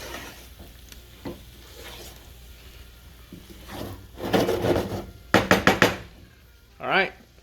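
Shrimp coated in garlic butter sizzle softly in a pan while a utensil flips and mixes them, giving several sharp knocks and scrapes in a quick cluster near the end, with a voice speaking in between.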